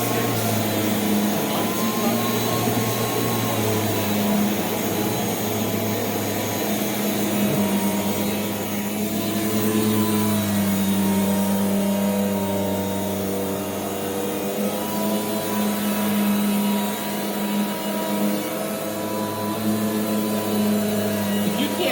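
A Rainbow D4C canister vacuum cleaner, produced from 1986 to 1995, runs continuously with a steady loud motor whine and drone, plus faint voices in the background.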